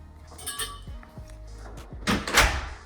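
Doors in a newly built modern house in Richmond are swung open: a few soft knocks and latch clicks, then a louder scraping, rattling sweep near the end, close by with no talking.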